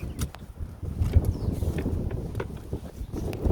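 Strong gusting storm wind during Storm Isha, buffeting the microphone and rushing past a board-covered gate, a continuous rough roar with low thumping gusts and no speech.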